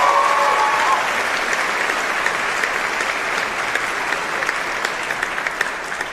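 A crowd at the BAFTA Games Awards applauds after a performance, with loud and sustained clapping that fills the room and holds steady throughout.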